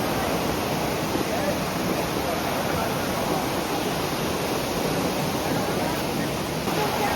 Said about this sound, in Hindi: क्या गजब वाटरफॉल है।